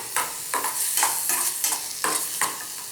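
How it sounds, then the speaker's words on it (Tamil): Beetroot and cashews stirred and fried in ghee in a pan, a spoon scraping in regular rhythmic strokes about every half second over a continuous close sizzle, no voices. "நல்லா பச்சை வாசனை போக நல்லா வறுக்கணும்."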